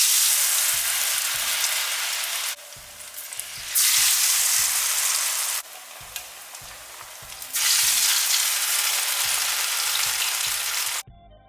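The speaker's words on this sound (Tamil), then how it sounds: "இப்போ எண்ணெய் நல்லா சூடானதுக்கப்புறமா நம்ம ஃப்ரை பண்ணி எடுத்துக்கலாம்." Batter-coated french fries deep fry in hot oil, a loud dense bubbling hiss that drops away abruptly several times and returns, with faint low clatters between bursts.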